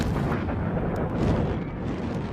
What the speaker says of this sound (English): Another devastating explosion rocks the city